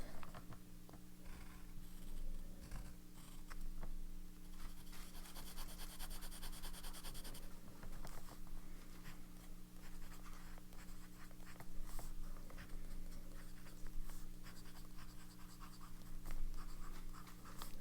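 A TWSBI Eco fountain pen with a medium nib writes on paper nearby, giving a continuous soft scratching and rubbing over a steady low hum, with no voices.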